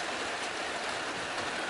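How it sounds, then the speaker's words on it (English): Heavy rain pouring down in a steady downpour, a dense continuous hiss close by with no let-up for the short stretch and no voices. "In the middle of a downpour"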